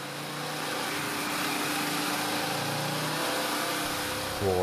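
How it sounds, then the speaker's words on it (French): A Harley-Davidson Pan America motorcycle engine drones steadily, its pitch rising as it accelerates through the full rev range, with a gear-change shift near the end. "on va faire une accélération sur toute l'amplitude de régime de la moto"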